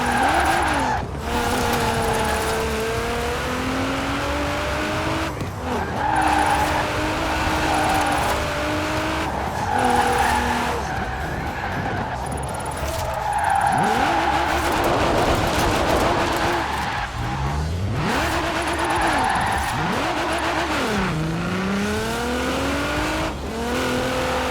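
A car drifts in Forza Horizon 4, its engine revving and dropping through repeated gear changes while tires squeal in long sustained skids, loud and continuous with brief lifts between slides.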